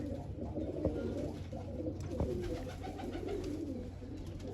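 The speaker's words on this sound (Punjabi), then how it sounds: "ਦੋ ਕਬੂਤਰ ਉੱਡੇ ਫਿਰਦੇ ਸੀ" Pigeons coo softly and repeatedly in low, rolling calls, a few sharper bird notes scattered through, with no talking.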